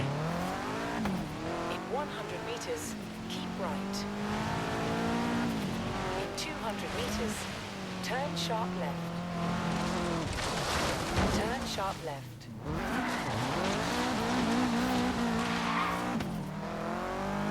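A car in Forza Horizon 3 drives fast over varied roads, its engine note climbing and dropping through gear changes, with tyre squeal here and there and someone talking over the engine.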